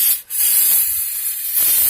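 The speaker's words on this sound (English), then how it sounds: "I'm just going to go ahead and just spray the camshafts down" Aerosol can of white lithium grease sprayed onto the camshafts of an engine head, a steady close hiss lasting nearly two seconds with a brief break near the start.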